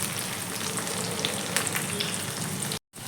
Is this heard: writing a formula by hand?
no